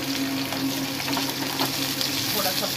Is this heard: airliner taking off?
no